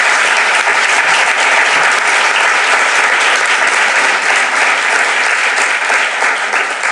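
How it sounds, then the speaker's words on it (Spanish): Loud, dense applause from a conference audience at an opening lecture in Fuenlabrada, continuous clapping holding steady throughout with no break. "os dé un fuerte aplauso porque Fuenlabrada es diferente"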